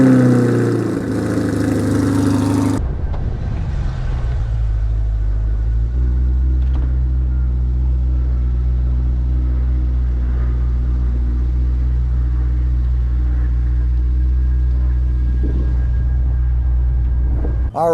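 A 2023 Chevrolet C8 Corvette hardtop convertible drives along with a steady low engine drone and road rumble from inside the cabin, after a brief louder burst at the start.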